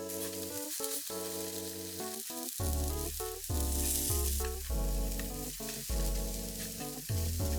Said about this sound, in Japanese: フライパンで焼きます。 米油を少しかけました。